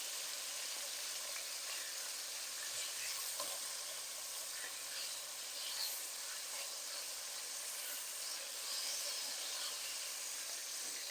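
Chicken coated in seasoned flour fries in a pot with a continuous, even, hissing sizzle that stays steady throughout.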